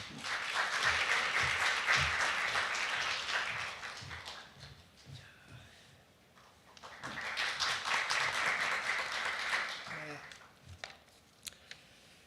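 A university forum audience bursts into applause, a dense wave of clapping that fades into a quieter pause and then swells again into a second round before tapering off, with talk in the room.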